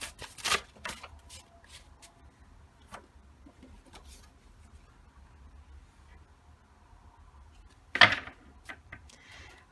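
Tarot cards shuffled and handled, soft intermittent flicks and slides close by, quiet overall, with one sharper burst of riffling near the end.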